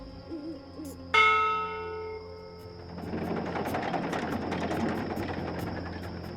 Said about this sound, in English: From what I've learned traveling on cloud ships, this is a ship's bell.